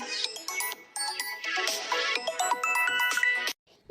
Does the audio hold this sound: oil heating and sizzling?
no